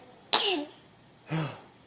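A child imitates a sneeze with the voice, making two short, close vocal bursts: a sharp, breathy first one and a softer, lower second one about a second later, with quiet pauses around them.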